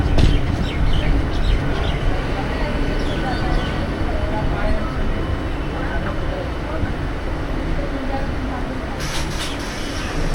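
A passenger train idles at Rajgoda station on the line toward Digha before departing, giving a steady, loud rumble with platform bustle and people talking throughout.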